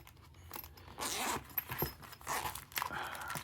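A zipper on a cloth knife pouch is drawn open in a few rasping pulls, close and clear, along with light fabric scraping and handling rustle.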